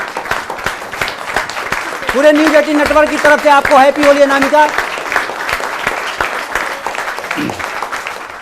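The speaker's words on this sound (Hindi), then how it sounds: "एक बार जोरदार खड़े होकर एक बार तालियां बजाइए इनके सम्मान के लिए" Loud audience applause at a Holi poetry event, with rapid, dense clapping throughout, while someone speaks over it at the start and midway.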